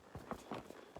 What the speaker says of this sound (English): I'm on a horse ride with Aaron Hammond and his daughter Amanda.